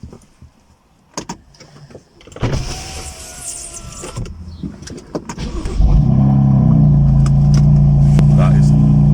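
A BMW M4 with its exhaust valve forced open cranks and fires up after some clicks and rustling, settling into a loud, steady, close idle drone.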